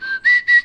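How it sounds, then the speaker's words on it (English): A person whistles straight into an unshielded microphone with no windscreen, giving three close, loud, harsh sustained notes in quick succession with no other sound. "If I do whistle, it sounds really bad because I don't have a windsock to put over the mic."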